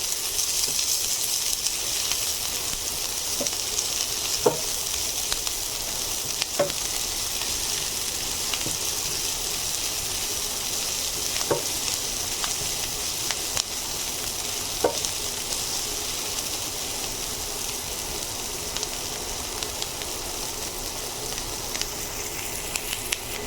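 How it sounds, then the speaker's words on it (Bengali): Chopped onions with four green chillies frying in a pan toward light brown, a steady soft sizzle running throughout with occasional faint stirring clicks, no voices. "এখন আমি সামান্য ব্রাউন করে ভেজে নেব পেঁয়াজগুলো।"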